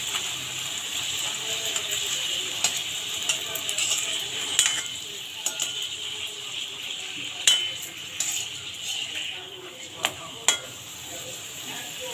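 Luchi frying in hot oil gives a close, continuous bubbling hiss, broken by a few sharp clicks and taps from handling the pan, with no talking.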